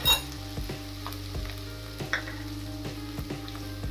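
Fennel seeds in hot oil, a steady close sizzle punctuated by regular scraping knocks of a stirring spoon against the pan, no voices.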